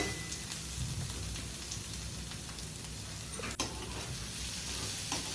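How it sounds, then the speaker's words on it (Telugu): Boiled panagantaku leaves and toor dal are stirred in a hot pan for a fry dish. A steady sizzle runs throughout with soft spatula scrapes, and one sharper scrape or knock comes midway. Nobody speaks. "బాగా నీట్గా మిక్స్ చేసుకోవాలి"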